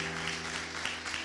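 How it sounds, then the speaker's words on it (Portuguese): Church congregation clapping in a dense, continuous round of applause, steady and full throughout, with no speech over it. "pode liberar a melhor salva de palmas que você pode liberar ao nome de Jesus"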